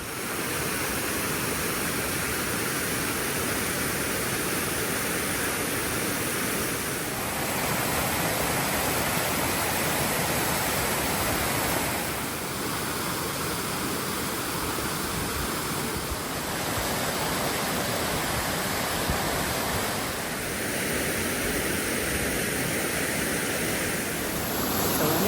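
A waterfall by a canoe-in campsite in the backcountry, a loud, broad, continuous rushing roar that stays steady throughout with no talk.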